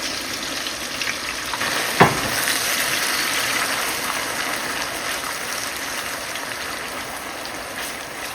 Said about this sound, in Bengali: দিয়ে দিচ্ছি কাঁচা মরিচ।